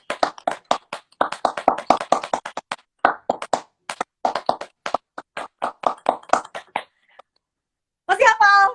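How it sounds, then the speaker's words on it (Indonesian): Scout-style rhythmic group clapping (tepuk pramuka) during a live online show, with sharp claps in quick patterned bursts and brief pauses for several seconds, followed by a short burst of singing or voice at the end. "tepuk pramuka lah dong"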